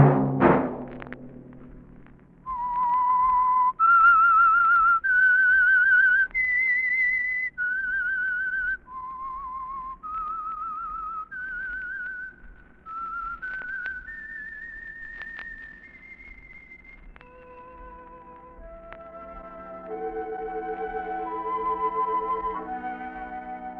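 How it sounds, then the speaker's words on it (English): Whistled theme signal of the 1948 Signal Oil radio program The Whistler, a lone clear melody of held notes stepping up and down, ending with a faint orchestral chord. "Let that whistle be your signal for the Signal Oil program, The Whistler."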